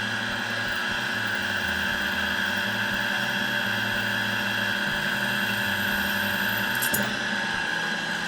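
A power tool with a carbide bit grinds the handle of a 5160 steel Bowie knife, giving a steady, loud high-pitched whine with a low rumble beneath, continuous throughout with a brief change near the end.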